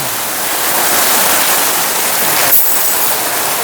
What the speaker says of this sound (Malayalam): മഴ കനത്ത മഴയും ഒന്നും ചെയ്യാൻ പറ്റില്ല.